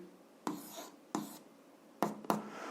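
A pen scratches out an algebra equation by hand on paper in four short, crisp bursts of strokes separated by brief pauses. It is quiet and close.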